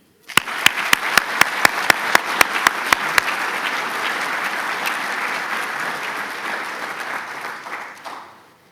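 Applause at a military graduation ceremony for individual award winners, opening with a series of sharp, evenly spaced loud claps before swelling into sustained dense clapping from the crowd that fades near the end.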